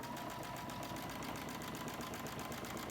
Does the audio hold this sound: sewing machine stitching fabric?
yes